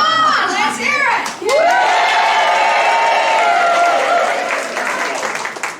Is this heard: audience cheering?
yes